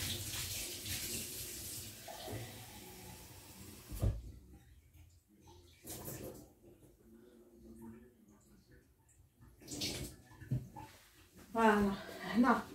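Tap water runs in a kitchen during Turkish pizza preparation, coming in short bursts of splashing flow between stretches of near silence, with a person talking over parts of it.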